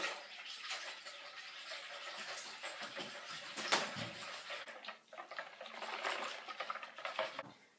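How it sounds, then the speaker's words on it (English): Banana muffin batter is whisked in a bowl: quick, close, irregular scraping and clinking of the whisk against the bowl, fairly quiet, with brief sharper knocks. "And then we whisk."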